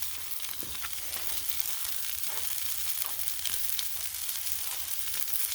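Steady, close sizzling of New York strip steaks frying on a Blackstone griddle, a continuous hiss with occasional faint pops and no talking.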